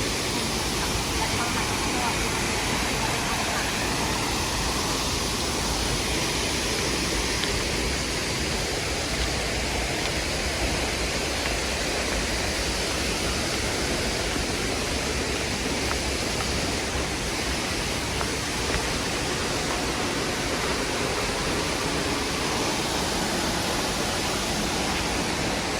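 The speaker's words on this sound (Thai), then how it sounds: "น้ำตกตากเรือ" Tad Yeung waterfall near Paksong in Champasak, Laos roars as a dense, steady broadband rush of falling water, loud and unbroken throughout, with faint voices occasionally mixed in.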